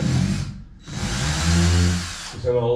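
A power drill fitted with an old, worn bit bores holes into a timber batten, running in two loud whirring bursts with a short pause between them, close by.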